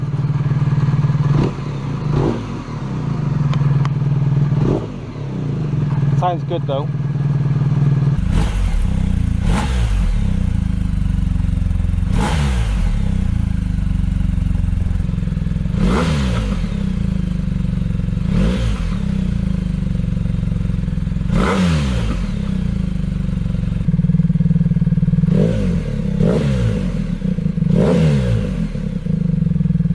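A BMW R1200R or R1250R motorcycle fitted with a new slip-on exhaust idles with a steady low rumble, then revs repeatedly in sharp, loud bursts that fall back to idle each time, heard up close with a brief spoken comment.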